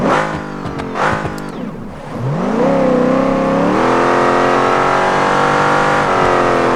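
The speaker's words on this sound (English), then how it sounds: "let's just listen to the supercharger because you can hear it better up front" Supercharged all-wheel-drive truck engine in the BeamNG.drive driving game revs up with a rising harmonic whine, then holds a loud, steady high-rpm drone with supercharger whir, close and alone with no talking.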